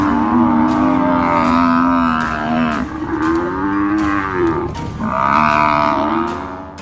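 Several loud, drawn-out bovine moos overlap almost continuously, a herd of water buffalo calling close by with no talk.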